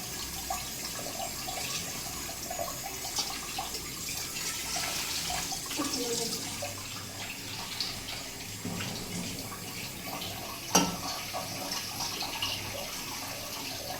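Tap water runs steadily while a cooking pot is washed and rinsed, a close, continuous splashing wash with a brief clunk near the end; no voices.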